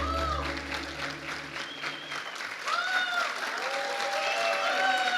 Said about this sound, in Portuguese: Uma salva de palmas para a equipe de louvor.